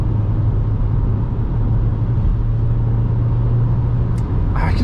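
Steady, loud droning road and engine noise inside a 2024 Forthing T5 EVO petrol SUV cruising at 130 km/h on winter tires, a constant low rumble with a brief faint chirp near the end.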